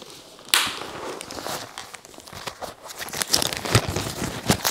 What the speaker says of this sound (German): wir haben hier wieder super viel Papierkram drin, was rascheln wird